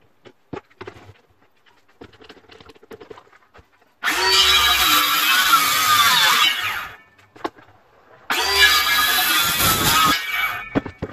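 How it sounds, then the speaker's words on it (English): A power saw cuts half-depth grooves across a piece of timber for a van conversion roof. Two loud, sustained cuts of several seconds each are separated by a brief pause, with faint handling clicks before them. "Now I've made those cuts across the timber."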